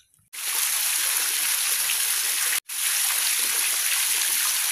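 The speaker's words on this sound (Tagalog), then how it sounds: "lalagyan muna natin ng tubig bago natin ito testingin" Water gushes steadily into a fish pond being filled before an aerator is tested, a constant close splashing rush with one brief cut partway through.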